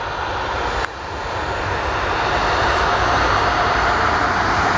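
An airplane engine at Portland airport roars loudly and builds in intensity, a broad sustained rumble that dips briefly and then swells steadily as the aircraft begins to move.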